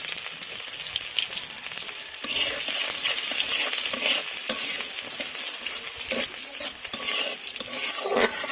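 Chopped onion and garlic, along with cumin, sizzle and fry steadily in hot oil while cooking a lentil dal, with a continuous crackling hiss and occasional stirring scrapes, close and fairly loud, no voices.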